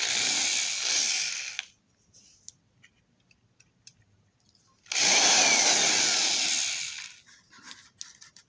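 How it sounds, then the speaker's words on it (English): A power drill bores into a model passenger railcar body in two loud, close bursts of whining high-pitched drilling, each about two seconds long, separated by quiet with small taps and handling clicks. "So in order to get these right in the center, I'm going to drill it from the inside out"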